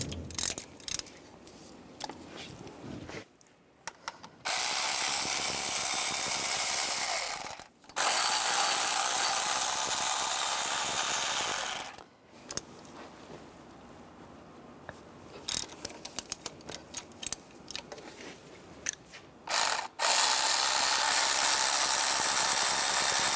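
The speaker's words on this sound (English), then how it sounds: "Now we're going to take off the manifold bolts. There's 4 up on top. Use a 10mm socket." Ratchet wrench with a 10mm socket working the top exhaust manifold bolts on a 2011-2015 Chevrolet during a turbocharger and manifold replacement, giving loud bursts of rapid clicking separated by short pauses, with no talk.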